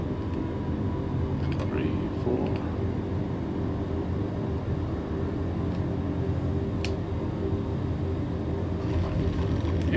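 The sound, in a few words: aircraft landing with flaps in Microsoft Flight Simulator video game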